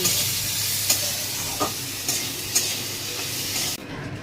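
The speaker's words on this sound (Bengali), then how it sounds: "ভাজা হচ্ছে কিশমিশ, কাজু বাদাম" Hot oil sizzles steadily in a pan as raisins and cashews fry, with a few sharp scraping stirs of a spoon, before the sizzle cuts off abruptly near the end.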